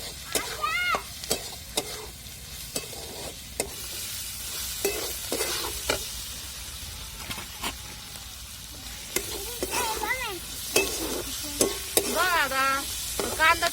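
Poha is stirred with onions frying in a pan, giving repeated scraping strokes of a spoon over a soft, steady sizzle, close and fairly quiet, with no speech.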